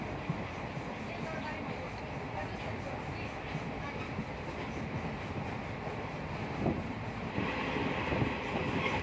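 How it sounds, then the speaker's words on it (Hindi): The Nagpur Kolhapur Express, train number 11403, rolls along in Maharashtra, heard from inside as a steady broadband rumble with faint rhythmic clatter of the wheels, continuous and moderately loud throughout, with a brief swell near the end. "सिग्नल मिल चुका है, अभी हमारी ट्रेन चल पड़ती है।"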